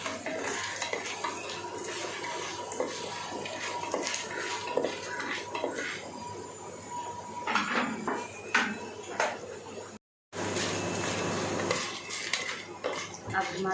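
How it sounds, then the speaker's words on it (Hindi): Mustard seeds, chana dal and whole spices roast in a pan for pudina rice, heard as repeated metal spoon scrapes and clinks against the pan over a low steady hiss, with a brief silent gap. "राई, चना दाल, इन सबको एक बार अच्छे से भून लेते हैं"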